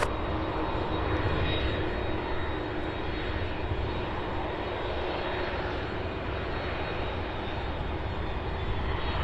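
A 22-year-old UPS Airbus A300 on approach makes a steady, broad engine roar with a faint high whine, distant and unbroken throughout.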